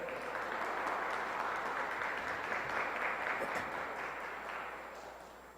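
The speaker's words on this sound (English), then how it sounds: "Everyone, give yourselves a round of applause." Sustained applause from a large audience at a Chicago gathering, dense and even, fading gradually toward the end with no talk over it.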